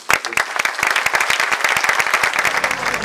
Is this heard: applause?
yes